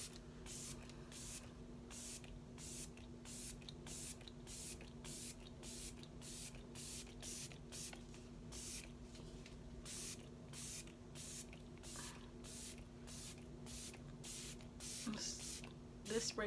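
Rapid short hisses of makeup setting spray burst again and again in a quick steady rhythm, close by and fairly soft, over a faint hum.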